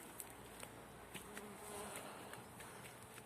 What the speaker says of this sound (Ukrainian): Бджілки літають тепленько, ягідки зав'язуються.